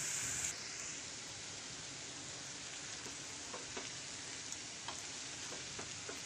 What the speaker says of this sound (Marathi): हे पण परतवून घेऊया। त्याच्यात आपण उकडलेले बटाट्याचे जे पीस आहेत ते आपण घालून घेऊया।